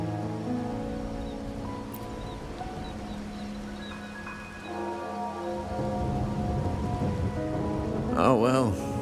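Rain falls steadily in the rainy city of Raguna in the game Wuthering Waves, a constant wash over layered background tones, with a sweeping musical flourish rising near the end.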